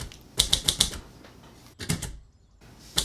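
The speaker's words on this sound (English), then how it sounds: "The typewriter." Typewriter keys in the film Atonement strike in crisp, loud bursts: a quick run of four clacks, a pause, then a couple more hits and one final strike, with no talking over them.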